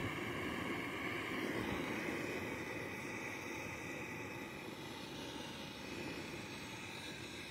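A gas torch roars steadily while lighting a fire of damp cardboard and pine, a continuous loud hissing rush that carries on without a break.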